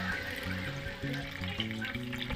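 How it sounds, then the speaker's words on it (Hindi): Water is poured into a hot pan of fried potatoes and spices for a curry, making a steady hissing sizzle and bubbling that carries on evenly throughout. "अब यहाँ पे हम पानी डाल देंगे।"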